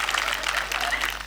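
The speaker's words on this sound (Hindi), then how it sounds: "अगर आप बात समझ गए तो एक बार जोरदार तालियों के साथ।" A burst of audience applause at a Hindi comic poetry gathering, many hands clapping steadily for a moment.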